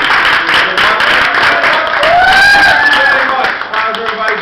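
An audience at a comedy show claps and cheers loudly and close by, dense applause under a host's voice, with a few rising shouts or whoops in the middle.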